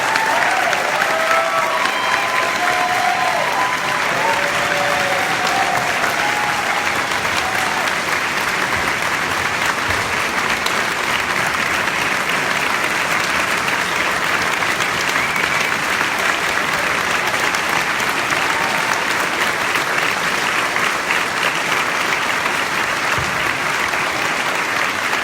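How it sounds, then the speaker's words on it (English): An audience at a community meeting about a fire applauds firefighters and CAL FIRE crews, loud sustained clapping that keeps up evenly for about twenty-five seconds with no one speaking. "Just give them a round of applause."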